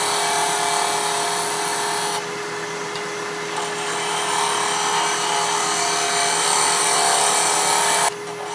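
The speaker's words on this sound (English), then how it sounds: "Light cuts. Slow cuts. Let the tool and lathe do the work." A wood lathe turns a traditional wooden coffee scoop with light, slow cuts, giving a loud, steady motor whine with a constant hum and a brief drop in level partway through, close and continuous, with no talking.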